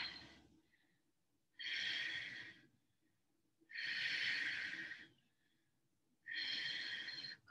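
Three slow, deep breaths drawn in and let out during a standing yoga stretch, each lasting over a second, close and soft, with quiet pauses between them and no talking.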